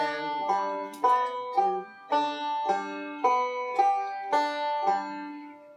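Banjo fingerpicking roll with thumb, index and middle finger on open strings including the open D, a steady repeating pattern of bright plucked notes, close and moderately quiet, with no voice.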